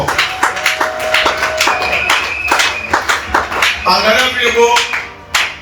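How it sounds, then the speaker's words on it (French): A congregation clapping in praise during a church worship service: a fast, rhythmic, fairly close run of claps under a voice speaking. "Acclame d'abord pour ce Dieu, acclame très fort."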